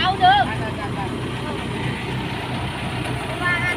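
A tractor engine runs during a nighttime rice harvest, a steady low idling rumble that holds throughout, with someone talking over it.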